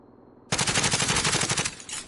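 Loud automatic gunfire in Call of Duty Warzone, a rapid burst of shots lasting over a second at close range, followed by a quieter short tail of fire.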